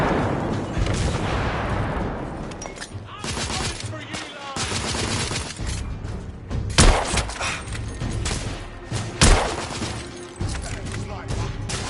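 Grenade blasts and heavy gunfire ring out in a Victorian-era shooter game, The Order: 1886, with dense bursts of shots and several sharp booms standing out through the firefight while voices shout over the din.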